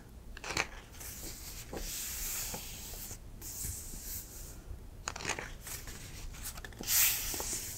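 Pages of an old used book with crisp paper turn one after another, giving close, soft rustles and crinkles in a quiet room, with a few sharper papery flicks spaced over several seconds.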